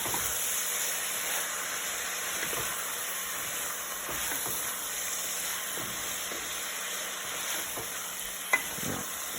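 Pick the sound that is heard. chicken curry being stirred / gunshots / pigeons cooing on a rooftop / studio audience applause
chicken curry being stirred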